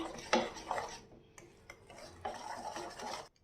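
Butter and milk cake batter being beaten by hand in a bowl: close, brisk scraping and clinking strokes in two bursts with a short pause between, no voices.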